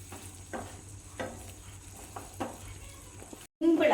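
Pepper egg curry is stirred in a pan over a soft, steady sizzle, with several distinct scraping strokes at regular intervals before a brief silence and a louder clatter.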